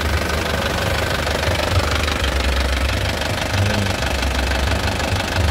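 A 2012 LV turbo car engine idles with its exhaust vibrating, giving a steady, loud, close rumble with a rough knocking pulse throughout and no speech.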